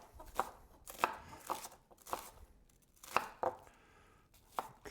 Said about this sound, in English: So we're gonna finish dicing up these 2 onions here.